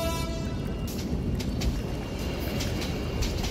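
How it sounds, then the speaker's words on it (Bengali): A train horn sound effect in a Bengali village horror story sounds briefly at the start, then fades into a steady rumbling rail noise. "ট্রেনের হর্ন।"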